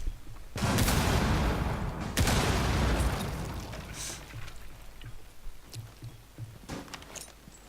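Bursts of gunfire in a Rainbow Six Siege esports match, a loud sustained volley near the start and a second heavy burst soon after, trailing into scattered fainter shots and footsteps.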